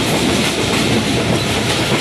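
Rehman Baba Express passenger train running on the rails in Pakistan, a loud continuous rumble with steady clickety-clack of the wheels close by, no voices.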